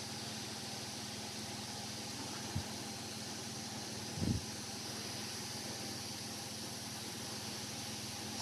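A blower runs steadily during a heat wand drying job in a small apartment, a constant broadband whoosh filling the whole stretch with a couple of brief low thumps partway through.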